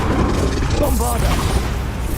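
A Bombarda spell explosion in the Hogwarts Legacy video game lands as a heavy, booming blast with crashing debris. The sound is loud and close, with a sustained rumble rolling under the impact.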